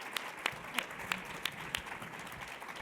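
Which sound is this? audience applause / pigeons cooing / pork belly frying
audience applause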